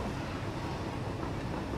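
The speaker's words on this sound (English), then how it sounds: "see how the train had just missed?" A train in the video game Satisfactory rushes past at full speed on a rail line, a steady, dense rumbling roar that holds loud and even throughout with no talking.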